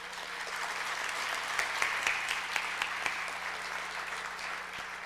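A crowd claps in a hall at a foreign policy forum on the United Nations, sustained applause swelling slightly in the middle with a few sharper individual claps standing out, no talk over it.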